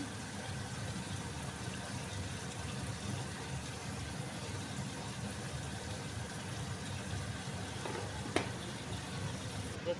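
Chicken gravy curry simmers in a pan with a steady, soft bubbling sizzle throughout, close and moderate in level, with a brief sharp clink near the end.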